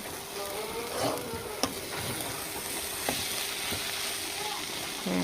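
Leafy greens and potatoes fry in a kadai, a steady close sizzle with occasional sharp clinks of stirring against the pan, no voices.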